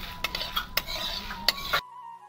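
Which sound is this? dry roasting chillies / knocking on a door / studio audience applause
dry roasting chillies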